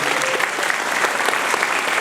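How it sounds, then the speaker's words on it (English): A crowd at a speakers' event claps to welcome Ustadh Ubaydullah Evans onto the stage, a brief burst of dense, steady applause. "Please give him a round of applause"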